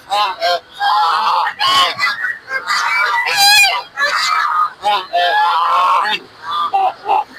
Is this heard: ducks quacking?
yes